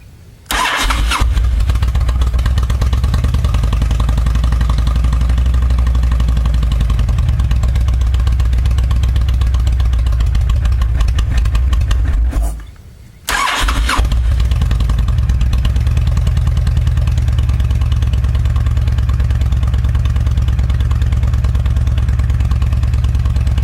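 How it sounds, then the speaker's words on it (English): A 2005 Honda VTX1300C motorcycle engine starts cold and settles into a loud, steady, low-pitched idle, then cuts off briefly before being restarted and idling again. "All right, let's start it up. Key goes in down here. Turn her on. It's cold."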